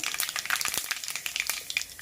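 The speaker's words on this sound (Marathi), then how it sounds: "मोहरी छान तडतडली, जिरं टाकून घ्यायचे।" Cumin seeds sizzle and crackle in hot oil in a wok after mustard seeds have popped, a steady close frying hiss broken by sharp spitting pops throughout.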